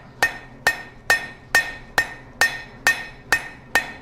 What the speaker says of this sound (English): So I'm going to come to the edge of the anvil. I'm just going to flatten this out.